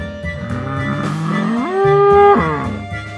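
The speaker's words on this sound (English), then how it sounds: "Bull." A bull lets out a single loud, drawn-out moo that rises and holds before falling away, heard clearly alone in a toy animal scene.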